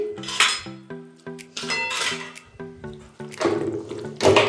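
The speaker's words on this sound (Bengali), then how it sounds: "তো আমি কড়াইয়ের মধ্যেই মাখাচ্ছি, কারণ কড়াইয়ের মধ্যে তেলটা গরম করেছিলাম" Metal utensils clatter and scrape against a wok as marinated food is mixed by hand in hot oil, a run of bright clinks and knocks at close range with no talk.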